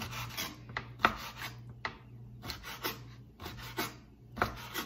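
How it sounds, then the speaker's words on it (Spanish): A knife cuts a fish fillet into small fine cubes for green ceviche, giving soft, irregular chopping strokes against a board, close and fairly quiet, with a low steady hum underneath. "vamos a comenzar troceando el filete y vamos a hacerlo en cuadritos bien finos"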